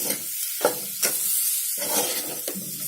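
A spatula stirs a fasting-style potato bhaji with grated coconut and coriander in a hot pan, giving repeated scraping strokes over a steady close sizzle of frying.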